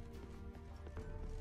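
Horse hooves clip-clopping in The Witcher 3, a steady soft trot under a busy background of game ambience and music, with no talk in the moment.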